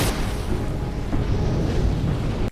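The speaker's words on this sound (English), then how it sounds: "an explosion." An explosion at the opening of Arrow Season 1: a loud, sustained rumbling blast with deep low-end roar that holds steady for over two seconds before cutting off.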